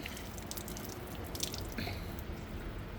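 Betel leaves and other leaves being washed by hand with water, giving a continuous close wet patter of drips and squishy splashing with no pauses.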